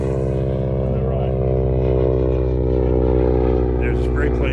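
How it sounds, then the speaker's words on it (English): A crop-spraying airplane passes over a rye field, its propeller engine a loud, steady droning hum that fills the scene. "There's a spray plane going over"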